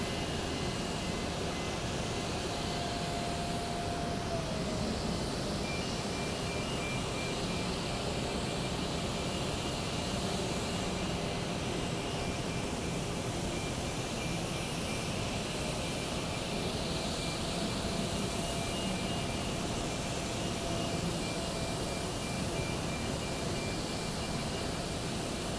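A Sri Lankan Airways airliner departing Sri Lanka gives off a steady, broad jet roar that holds evenly throughout, fairly distant and with no voices.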